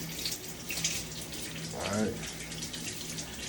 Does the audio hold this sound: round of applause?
no